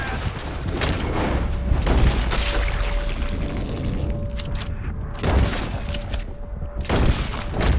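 Repeated gunfire in Red Dead Redemption 2 during a chase while fleeing the army, with loud booming shots in bursts and a continuous rumbling background.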